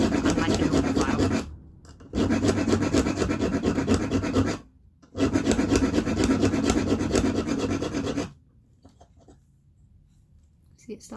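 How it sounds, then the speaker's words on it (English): A small round diamond needle file scrubs back and forth in a metal recess, producing three loud, steady rasping bursts separated by short pauses, then quiet. "I've got a little round needle file, and I'm just going to file a little recess"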